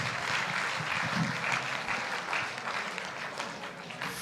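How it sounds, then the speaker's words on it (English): An audience at a town hall on peace and national cohesion claps together, a dense steady patter of many hands that holds for several seconds and fades slightly toward the end. "Now let's clap one more time there"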